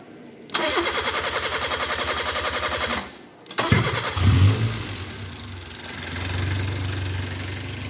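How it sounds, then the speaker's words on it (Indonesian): A car engine cranks with a rhythmic starter whir for about three seconds, pauses, then cranks again and catches, settling into a steady idle, started for an engine management system diagnosis. "Kita hidupkan dulu mesinnya."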